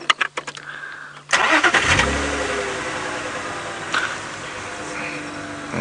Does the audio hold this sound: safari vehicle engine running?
yes